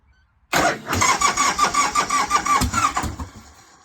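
A 1988 Harley-Davidson Softail motorcycle engine cranks with a rhythmic starter chug, catches and runs roughly for a few seconds, loud and close, then cuts off.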